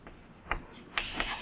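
Pen or pencil scratching across notebook paper during a math lesson, a few faint short strokes with quiet gaps, close and soft.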